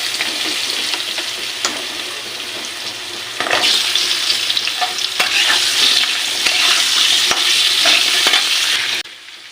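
Vegetables dropped into hot oil with turmeric and chili powder, a close loud sizzle that swells sharply when they go in and stays strong with stirring scrapes, then cuts off near the end.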